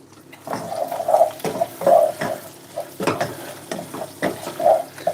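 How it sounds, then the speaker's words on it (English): Water poured into a pan of cooking onions, giving repeated splashing and sizzling bursts with short pauses between, fairly close and moderately loud, with no speech. "I start to add a bit of water to them."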